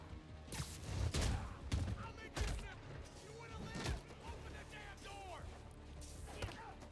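Bursts of enemy gunfire in the Spider-Man: Miles Morales video game, several loud sharp volleys mixed with thuds and combat noise, with a person talking over them.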